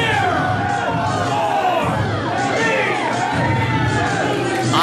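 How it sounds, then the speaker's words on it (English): A wrestling event crowd cheers and shouts at a championship match, with a dense mix of many voices, whoops and yells filling the hall at close range. "Dan DeMann deserves the crowd's cheers tonight"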